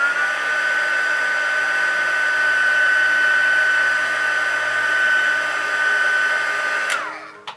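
A heat tool blows steadily for about seven seconds to set face makeup, a loud continuous whirring drone alone without talk, then clicks off and winds down.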